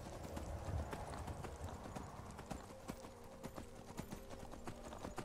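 Horse hooves clip-clop in Skyrim, a steady galloping rhythm of sharp hoof strikes over a busy game soundscape, with faint talk in the background.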